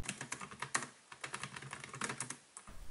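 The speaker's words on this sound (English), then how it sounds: "I really do like the key travel and the clicky responsiveness of each key" Steady, quick clicky typing on the plastic keys of a Kingze iPad 9.7-inch backlit keyboard case, close and crisp, with an irregular rhythm of keystrokes and no talking.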